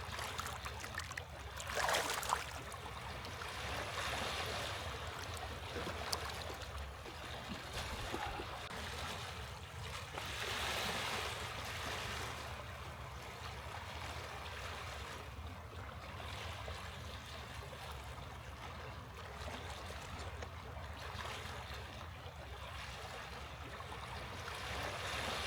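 Waves wash over a rocky shoreline on Dallas Road, a soft, continuous outdoor rush with gentle swells and trickling water at a distance, quiet and steady with no voices.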